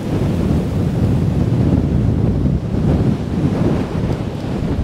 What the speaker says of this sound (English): The wind's that strong, it's blowing the sand over the beach.